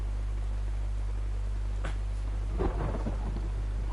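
Rain and thunder in the video game DayZ on the Livonia map: a steady hiss of rainfall over a low hum, broken near the end by a short rolling rumble of thunder, with no voices.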